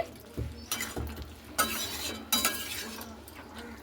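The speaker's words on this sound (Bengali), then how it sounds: "তো এইভাবে কিন্তু আমি আবারও একটু নাড়াচাড়া করে নিচ্ছি।" Jackfruit and potato curry stirred in a pan with a spoon, several distinct scraping strokes with soft sizzling between them, close and alone with no talking.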